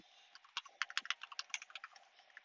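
Fingers tap an iPad's physical keyboard in a quick, uneven run of light clicks, close and fairly quiet, with no voices.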